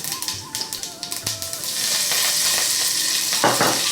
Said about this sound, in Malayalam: കടുക് പൊട്ടുമ്പോഴത്തേക്ക് നമുക്കതിൽ ഉണക്കമുളകും കറിവേപ്പിലയും ഒന്ന് ഇട്ട് കൊടുക്കാം.